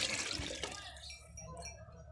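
Water poured from a container into a pot of soaked rice for potato pea rice, a splashing gush that is loudest at first and then thins into softer trickles.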